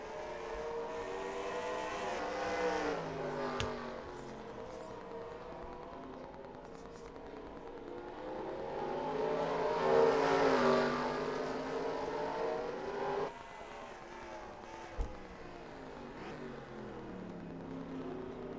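NASCAR race car engines in the NR2003 video game during a Mid Ohio road course race, with high revving tones rising and falling through gear changes, a louder surge as cars pass, and a sharp click near the end.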